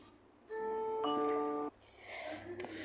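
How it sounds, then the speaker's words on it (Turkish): A two-tone electronic doorbell chime rings out clearly, one note then a second sustained note, near and fairly loud, followed by muffled room noise. "Bir, ben zil çalacağım kızım"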